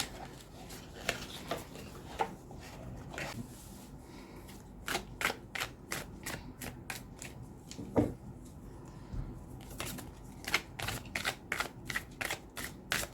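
Zen tarot cards are shuffled close by in quick riffling bursts and separate snaps, which thicken into a fast run of crisp card flicks toward the end, with no talk.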